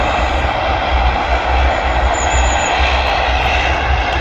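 Loud, steady roar of jet airliner engines at an airport viewing park, a sustained close rumble with a thin high whine running through the whole stretch and no voices.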